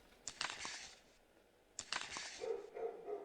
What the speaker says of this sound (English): The neighbours' dogs are barking.